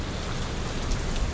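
Steady, dense rain falls outdoors during a motorcycle ride, a continuous close wash of patter with no pauses, the drops hitting surfaces all around.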